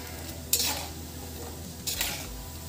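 Mathri fry in hot oil with a constant bubbling sizzle while a spoon scrapes through the pan twice, each stir a brief bright scrape close by.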